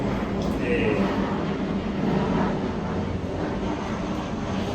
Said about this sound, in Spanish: tenemos el avión nuevamente